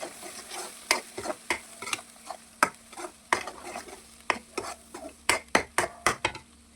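Ground paste frying in oil in an Udupi-style home kitchen, with a steady sizzle under repeated sharp scrapes and clinks of a spoon against the pan, roughly one or two per second, close and fairly loud, no talking.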